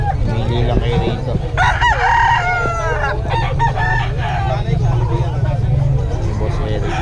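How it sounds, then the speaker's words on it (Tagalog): Roosters crow repeatedly at a busy festival expo, several loud, close calls rising over a steady crowd and engine hum, with someone talking throughout. "Yan, ang gaganda ng mga manok ni Boss Eric, oh."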